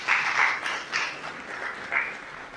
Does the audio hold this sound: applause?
yes